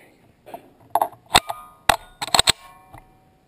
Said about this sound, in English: we're gonna try mag reload